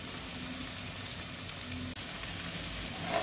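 Onion and tomato with hot chili and Kashmiri chili powder sizzle steadily in a pan, a constant close frying hiss with faint stirring scrapes throughout.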